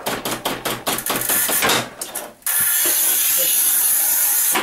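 A scored porcelain stoneware tile cracks apart in a manual tile cutter after a run of sharp, rapid clicks and knocks, followed by a steady hiss.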